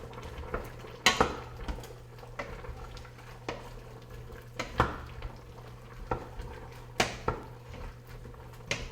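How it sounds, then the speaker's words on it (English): A spoon stirs onions, ginger and aromatics in a pot for coconut curry, giving sharp intermittent metallic scrapes and clinks over a faint low sizzle, close and irregular, with no talking. "I'm gonna give that a stir"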